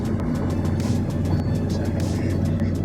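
Steady engine and road rumble inside a bus travelling toward La Union in El Salvador, a continuous loud drone with light rattles and no talk.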